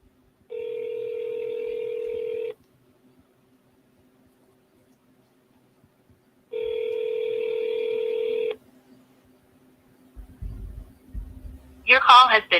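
Outgoing ringback tone on a phone call to a home seller, two long steady rings several seconds apart, clear and alone, followed by a brief burst of a voice at the end.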